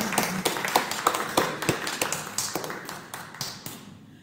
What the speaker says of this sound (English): But we can give them a round of applause.